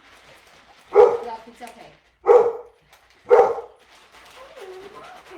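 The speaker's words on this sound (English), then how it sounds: "My dogs want slushy too." Three loud, evenly spaced barks from dogs nearby, each short and sharp, with a person speaking quietly between them and faint whimpering afterward.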